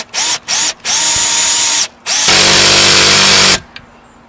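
A power drill drives lag bolts into a roof to fasten a solar panel mount: three short whirring bursts, a longer spin, then a loud, strained grinding run that stops abruptly, heard up close.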